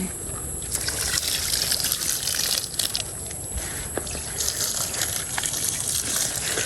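Water trickles and gushes steadily while garden plants are watered, a continuous splashing flow with brief spurts, close by and with no talking.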